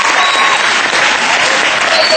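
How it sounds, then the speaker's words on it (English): Loud, dense applause from a crowd at a graduation ceremony, steady and sustained throughout with no pauses. "Let's give them a round of applause."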